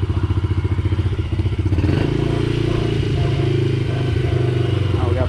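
A Yamaha TTR50 dirt bike engine idles steadily after an idle set screw adjustment, a close, continuous low drone that runs a little rougher for the first two seconds, then settles into an even putter.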